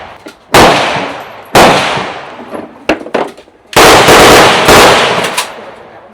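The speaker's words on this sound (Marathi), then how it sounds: "आता फायरिंग करताना तुम्ही बघू शकता" Guns are fired at a shooting range in Vietnam. Loud, close shots crack out one after another, some in quick clusters, each with a brief ringing tail before the next.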